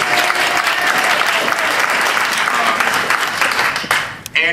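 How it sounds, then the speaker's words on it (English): Applause at a town hall meeting on NYU expansion plans, a dense sustained clapping from a large crowd that fades out near the end, loud and close. "round of applause for Marty."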